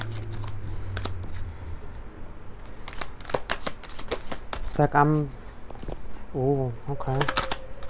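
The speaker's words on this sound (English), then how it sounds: "I'm shuffling the deck" A deck of cards is shuffled by hand in quick, crisp riffling bursts close up, and a voice briefly speaks between them.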